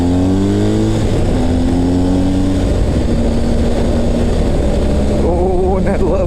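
Motorcycle with a 1250 engine riding on a road, its steady engine drone rising in pitch under acceleration, close and loud with constant wind rush throughout.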